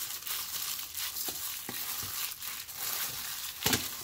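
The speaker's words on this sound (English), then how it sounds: "Now I'm going to mix." Seasoned ground beef being mixed by hand in a bowl, producing close, soft squishing and wet smacking sounds with a few sharper slaps, steady and moderately quiet.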